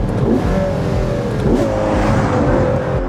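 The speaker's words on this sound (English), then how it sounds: "in all the theatrics of this V12 engine" Ferrari 12Cilindri Spider V12 revving hard and loud, the pitch climbing and falling through repeated blips, with a dense, continuous roar close by and no talk.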